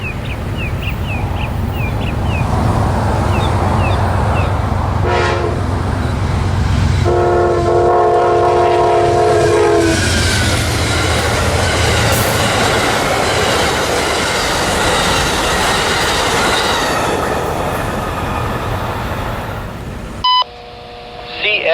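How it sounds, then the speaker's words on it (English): Amtrak Silver Star Train 91 roars past at speed, loud and close, with a blaring horn and rapid clickety-clack of wheels over rail joints, ending abruptly as the last car clears. "Silver Star Train 91 barreling down on us"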